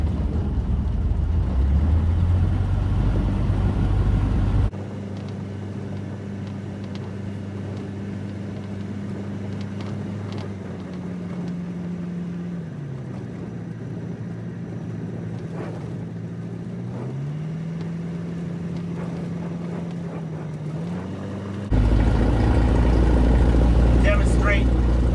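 Tailwheel airplane engine taxiing after a landing: a steady low propeller drone at idle, with the pitch sliding down and back up in slow shifts, under a voice talking, with louder engine bursts at start and end.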